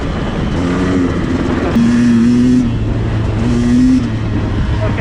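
A 2021 Beta 200RR two-stroke dirt bike engine revs in a few rising blips over a steady idle, close and loud outdoors, with rough broadband engine noise throughout.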